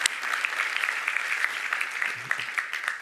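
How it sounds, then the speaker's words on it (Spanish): A church audience gives a speaker's guest a dense, steady round of clapping that holds at the same level for the whole stretch, with no voices standing out. "Denle un fuerte aplauso por acá a Ramón."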